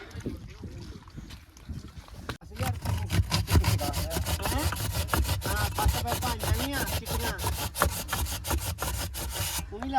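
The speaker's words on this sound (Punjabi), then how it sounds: "ਆਰੀ ਨਾਲ ਵੜ ਦਿੰਨੇ ਆ" Rapid, rhythmic back-and-forth strokes of a hand saw cutting through wood, close and steady after a brief quieter start.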